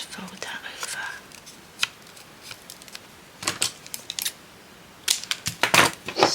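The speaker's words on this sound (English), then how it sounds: "Snip that down." Scissors snip fabric scraps up close in a series of short, crisp cuts, irregular and sometimes in quick clusters, with soft handling noises between them.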